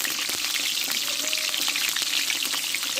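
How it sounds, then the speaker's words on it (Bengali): Diced potatoes sautéing in white oil in a kadai give a steady, dense sizzle with crackling pops, close and fairly loud throughout, with no voices. "আগে আলুটা একটু ভালো করে কষে নেব।"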